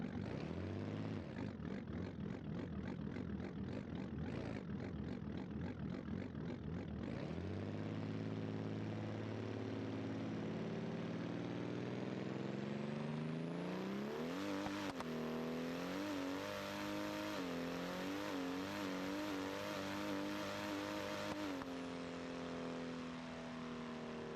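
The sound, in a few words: car engine accelerating during a test run in BeamNG Drive video game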